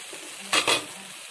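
Boiled taro is tipped into a pan of tomatoes that have cooked down, giving two quick scraping bursts of stirring and sizzling over a quiet, low hiss of frying.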